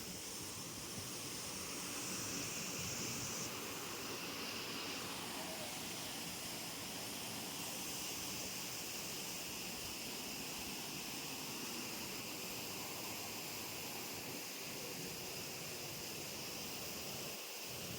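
Devkund waterfall in Mayurbhanj, Odisha, heard as a constant broadband roar of falling water, steady and unbroken throughout, with no clear voices.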